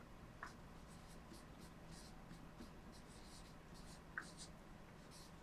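Pen or marker writing numbers by hand on a board or paper, a faint scratchy rhythm of short strokes with a couple of sharper taps, alone in a quiet room.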